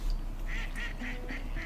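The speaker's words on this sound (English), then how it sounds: "Blow those ducks up!" Ducks quack in the Duck Dynasty video game, five quick nasal quacks in an even rhythm, fairly close and clear over a low rumble.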